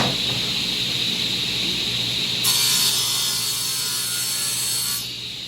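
A power saw cuts through 1/4 inch wooden panel material in a steady, loud, rasping run that brightens briefly midway and eases off at the end.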